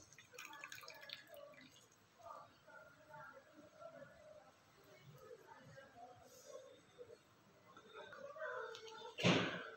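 Water drips and trickles from washed dried fish squeezed by hand in a kitchen, with faint patters and a louder splash at the end.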